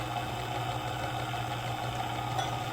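A stand mixer running steadily, mixing molasses gingerbread dough for lebkuchen, with a constant low motor hum and no voices over it.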